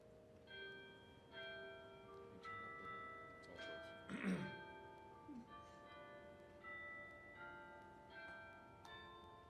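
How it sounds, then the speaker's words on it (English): A patriotic hymn plays on a digital carillon through a small phone speaker, clear bell-like tones forming a slow melody in a large room, faint and reverberant, with a brief rustle partway through. "I'm just going to play a couple of things on the Carillon so that you can get an idea of what it would sound like."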